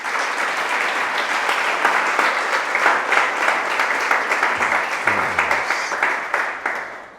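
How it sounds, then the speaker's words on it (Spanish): Loud congregation applause inside an evangelical church, a thick sustained burst of clapping from many hands, even and close, with a brief low rumble partway through and no voices. "Vamos a darle un aplauso al Señor."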